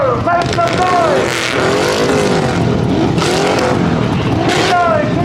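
Supercar engines rev and roar at a car show launch, loud and close, with rising and falling pitch sweeps, sharp bursts and a possible tire squeal, while a crowd and announcer voices mix in underneath.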